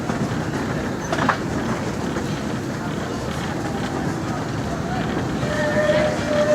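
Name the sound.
Disneyland Railroad train running along the rails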